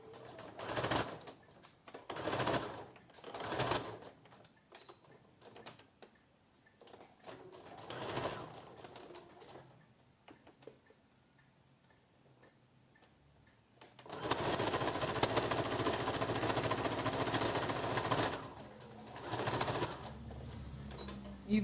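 Sewing machine stitching patchwork fabric, several short bursts of rapid mechanical whirring separated by pauses, then a longer continuous run near the end.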